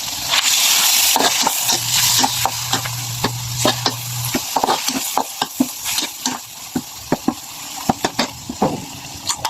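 Corned beef sizzles and fries in a pan as a utensil stirs it with repeated scraping clacks and rattles over a steady hiss, close and fairly loud, with no talk.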